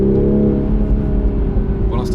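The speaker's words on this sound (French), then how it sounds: "La boîte rétrograde quelques rapports. L'échappement devient un petit peu plus sonore." Toyota GR Supra 3.0 in sport mode, gearbox dropping a few gears as the exhaust turns louder, a close, deep, rumbling drone with steady harmonics, and a brief faint rustle near the end.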